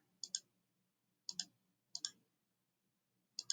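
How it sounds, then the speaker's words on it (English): Computer keyboard keys tapped in four short bursts of two or three quick clicks each, separated by pauses, close and fairly quiet in a still room. "I'm going to actually just type in my function"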